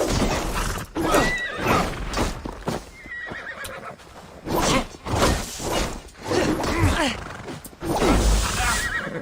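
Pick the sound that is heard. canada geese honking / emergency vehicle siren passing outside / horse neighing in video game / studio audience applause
horse neighing in video game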